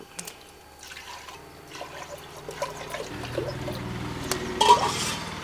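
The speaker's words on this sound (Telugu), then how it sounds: "మట్టి పాత్ర పెట్టుకున్నాక ఇప్పుడు వాటర్ పోసుకుందాం" Water trickles and pours into a clay pot, a steady liquid stream that grows slightly louder toward the end, with no voices.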